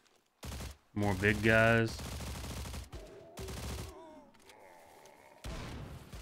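Gunfire strikes the player in an online arena event match of a video game, a burst of loud shots crackling in the opening seconds, followed by scattered impacts under a voice talking over the action.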